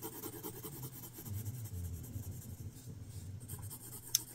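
A pencil sketches a baseball and bat on paper, giving a soft, continuous scratching and rubbing, close and faint, ending with a brief tap.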